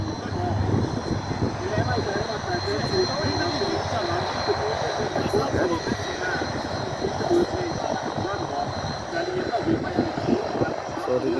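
Steady drone of a propeller aircraft engine at the Karup air show, with a buzzing, fluttering quality, moderately close, with a voice talking underneath.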